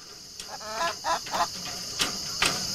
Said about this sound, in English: Right above her, that loudmouth, that's a rooster.